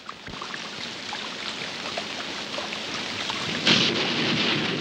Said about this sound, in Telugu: ఇదేం వానబ్బా ఆగట్లేదు?